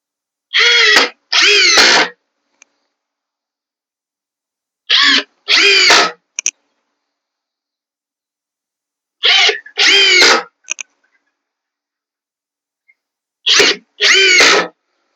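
Power drill countersinking screws into the wooden frame of a kids' sandbox, heard as four evenly spaced pairs of short, loud whirring bursts separated by silence.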